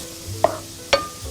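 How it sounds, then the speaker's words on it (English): Two brief scraping clinks of a spatula stirring frying onion in vegetable oil in a pan, spaced apart over a low background hum. "Be sure to mix with a spatula."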